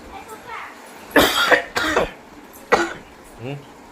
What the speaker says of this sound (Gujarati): તમે ખૂતા હોય ને બેઠા હોય ત્યારે જ કેમ વધારે ઉધરસ આવે?